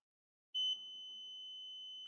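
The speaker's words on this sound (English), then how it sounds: "put my multimeter in continuity. and see if we got good contact" A multimeter set to continuity gives a single steady electronic beep that starts abruptly and holds, with faint handling noise beneath it, during repair of a Cen Tech 97245 metal detector.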